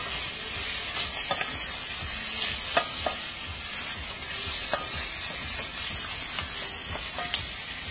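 Seasoning sautés in a pan served over ripened plantains, with a constant bright sizzle and scattered taps and scrapes from stirring, all close and continuous with no talking.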